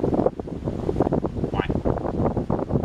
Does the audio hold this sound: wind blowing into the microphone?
yes